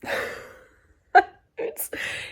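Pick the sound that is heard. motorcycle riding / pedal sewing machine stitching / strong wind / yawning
yawning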